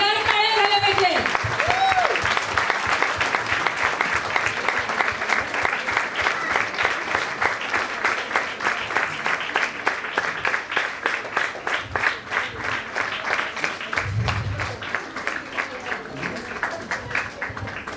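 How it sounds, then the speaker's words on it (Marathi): An audience claps loudly at a school's diamond jubilee celebration for deaf children, the applause turning into rapid rhythmic unison clapping that continues steadily, with brief voices near the start. "जोरदार टाळ्या झाल्या पाहिजे."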